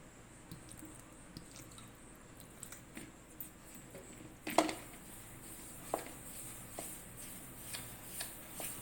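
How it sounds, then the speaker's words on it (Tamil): Hands knead maida and wheat flour dough with water, up close and faint, giving soft, irregular squishes and sticky slaps in a quiet room. "மைதா மாவையும் கோதுமை மாவையும் கலந்துட்டு நான் தண்ணி ஊற்றி மாவு பிசைஞ்சிக்கிறேன்"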